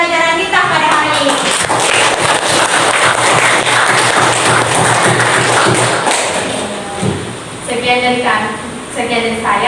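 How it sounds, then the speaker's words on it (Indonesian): A classroom full of students bursts into loud, sustained applause and clapping at the end of a lesson, dense and continuous for several seconds before thinning into scattered claps alongside voices. "Tepuk tangan yang meriah untuk pembelajaran kita pada hari ini."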